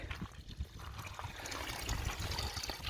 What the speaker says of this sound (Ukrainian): Уже вода бежит.